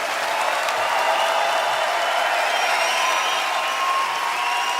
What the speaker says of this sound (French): Les applaudissements pour Artus.